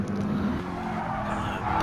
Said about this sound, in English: We've got a car backwards